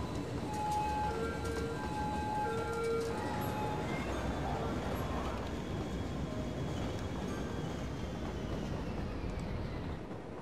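Train rolling through a city in the video game Cities: Skylines, a steady rumbling rail sound with faint tonal hums, held at an even level throughout.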